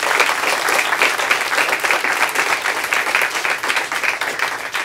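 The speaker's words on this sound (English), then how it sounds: "Let's give them a round of applause." A crowd applauds mentors and supporters at a university student invention event's final presentations, a full, loud burst of many hands clapping that stays steady and continuous throughout.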